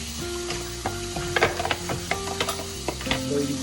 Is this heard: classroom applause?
no